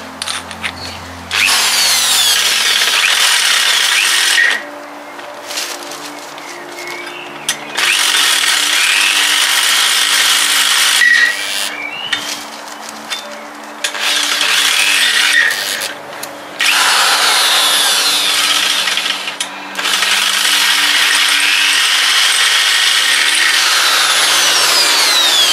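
A power tool grinds through the head of a bolt on a trailer winch, throwing sparks, in long loud bursts separated by short pauses across the clip.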